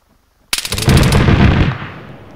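Gunfire in the Arma 3 video game during a King of the Hill match: a sudden loud burst of rapid shots that rolls into a booming, reverberant tail and fades away.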